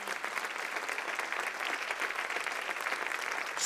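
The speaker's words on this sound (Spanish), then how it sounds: "Denle un aplauso al Señor." A church audience at a missions service gives a steady round of applause to the Lord, dense clapping from many people held at an even level for a few seconds.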